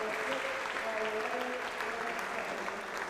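A home crowd applauds steadily after a win in a women's quarter-final at the Scottish Squash Open, dense clapping held at an even level throughout.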